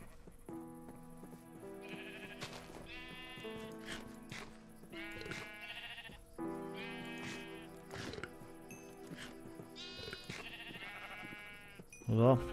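Sheep bleat again and again in the video game Minecraft, a string of clear, wavering calls over a quiet, steady in-game background tone, with a louder burst at the very end.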